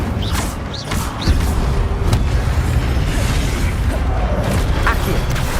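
Incendio fire spell cast in Hogwarts Legacy, a loud burst and whoosh of flame with booming, crackling magical effects, layered over game ambience and a voice speaking.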